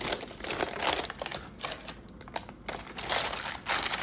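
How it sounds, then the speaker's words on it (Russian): Parchment paper peeled off a cooled, hardened slab of boiled sugar, a close, dry crinkling and crackling that comes in bursts with brief quieter gaps and no talking. "С остывшего сахара снимаю пергаментную бумагу."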